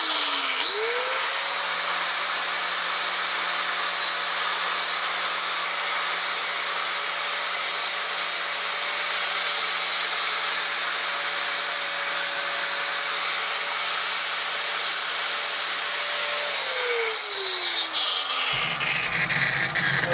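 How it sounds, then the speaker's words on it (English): An angle grinder spins up, grinds small nubs off a bird table roof piece with a loud steady high whine for about fifteen seconds, then winds down alone. "This is an angle grinder. It's going to be loud."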